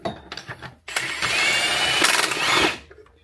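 A power tool with a 19mm socket drives a clutch puller on a CF Moto U10 Pro, firing short bursts and then one sustained loud whir of about two seconds, close and with no voices.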